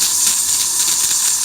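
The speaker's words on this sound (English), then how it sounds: "you'll get steam out of it as opposed to just kind of crackling, boiling water" A live steam locomotive's safety valve lifts, releasing a steady, loud hiss of steam that holds constant throughout without any speech.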